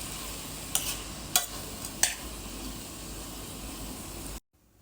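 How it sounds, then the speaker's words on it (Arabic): Freekeh being stirred in a pan with onion, tomato and chili peppers, a steady frying hiss with three sharp scraping strokes of the spoon near the start, cutting off abruptly near the end. "كده يا جماعه قلبت الفريكه مع البصل والطماطم وقرنين الفلفل"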